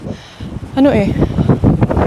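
Wind gusts buffet the microphone outdoors in Spain with a low rumbling roar as a person talks over it.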